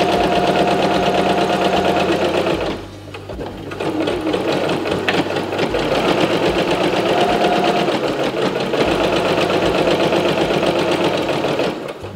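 Sewing machine stitching a long strip of linen for a tea towel, running in a steady, continuous whir close by, with a brief slowdown near three seconds before it carries on without pause and with no talking.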